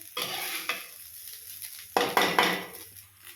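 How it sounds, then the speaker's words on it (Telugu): Chili powder and salt being mixed into egg fried rice in a pan, with several stirring scrapes and clinks of a utensil against the metal over a faint sizzle. "కారం వేసుకొని బాగా కలుపుకోండి."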